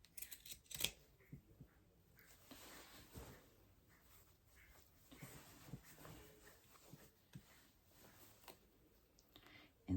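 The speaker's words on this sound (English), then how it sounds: "carefully just cut along that line" Scissors cut along the line of a McCall M8256 sewing pattern, giving quiet, close, irregular snips and paper rustles spread over several seconds.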